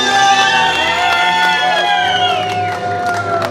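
Wedding guests clap and cheer loudly at a celebration, with whoops and shouts over a bed of music and an announcer's voice; the crowd noise stays dense and energetic throughout.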